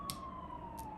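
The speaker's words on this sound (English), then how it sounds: "I just heard the ambulance, police, or something of that nature" An emergency siren, ambulance or police, wails faintly outside as a steady falling tone under a low background rumble, with two short soft clicks.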